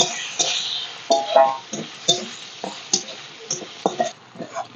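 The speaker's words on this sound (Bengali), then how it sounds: "এবার তেলের মধ্যে দিয়ে দেবো দিয়ে একটু হালকা করে ভাজা ভাজা করে নেবো" Crumbled chhana (cottage cheese) fries lightly in hot oil for a stuffed pumpkin-leaf roll. A steady soft sizzle runs throughout, broken by sharp scraping stirs at irregular intervals.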